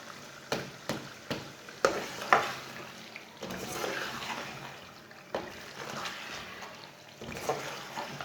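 Chicken pieces with whole garlic cloves fry in a pan as a spoon stirs them, giving sharp scraping strokes at irregular intervals over a steady low sizzle, close up and without speech.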